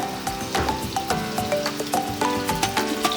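Nargisi koftas sizzling and crackling in a generous pool of hot oil in a pan, a dense steady fry with frequent sharp pops and spatters, close and fairly loud.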